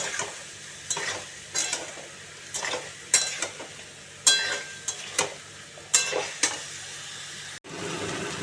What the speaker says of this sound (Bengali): এঁচোরটা দিয়ে দিলাম সেদ্ধ এঁচোরটা এবারে এর মধ্যে দিয়ে কষাবো